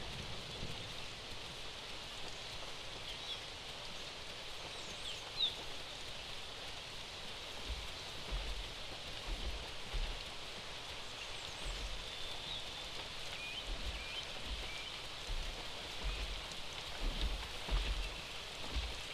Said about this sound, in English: Oh, right, it's raining.